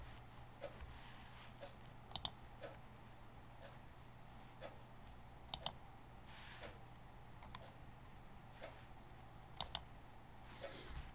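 A computer mouse clicks in a quiet room, several sharp isolated clicks, some in quick double pairs, spaced seconds apart over a faint steady hum.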